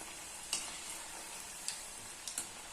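Shankarpali dough pieces frying in oil over a low flame while being stirred, a steady soft sizzle with a few faint clinks of the stirring utensil, alone and close.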